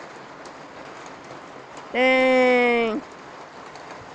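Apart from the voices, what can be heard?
heavy rain falling outside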